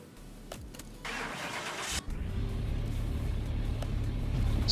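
A car engine cranks briefly, catches, and settles into a steady idle, heard up close with no talking.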